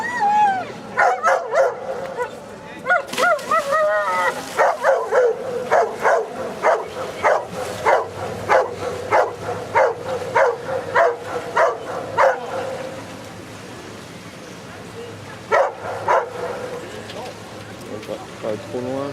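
A dog barks repeatedly in a quick, steady series of sharp yaps during a sea-rescue boat outing near Brest, loud and close, with people talking over it and water and boat noise underneath.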